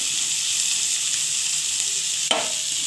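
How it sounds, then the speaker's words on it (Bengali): Oil sizzling steadily in a pan with a few pieces frying, a constant close hiss with one brief clatter near the end, no voices. "এবার একটু ভাজা হতে দেব"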